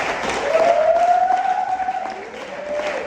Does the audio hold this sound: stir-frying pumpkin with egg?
no